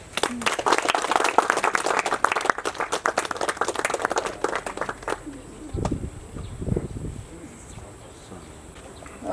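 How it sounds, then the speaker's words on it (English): An audience at a convocation ceremony held under a BSF battalion's civic action programme gives a round of applause that is brisk for about five seconds, then fades into quieter ambience with a few scattered low sounds. "A big round of applause, please."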